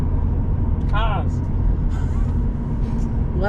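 Cars pass on the Pacific Coast Highway heading toward San Diego, a loud, steady traffic rumble close by, while people talk over it.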